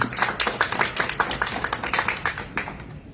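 An audience claps after a speaker is introduced at a Spanish-language science outreach event. The applause is a dense, continuous patter of many hands, moderately loud and steady, with no speech over it.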